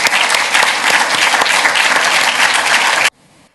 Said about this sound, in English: please join me in a big round of applause for this panel